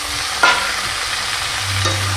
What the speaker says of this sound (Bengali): এবার আমি এই টমেটো কুচিটা দিয়ে দিচ্ছি একে একে